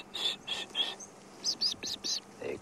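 Blue waxbills call in the Sabi Sand bush at sunset: a series of short, thin, high chirps in two clusters, fairly close and clear against a quiet background.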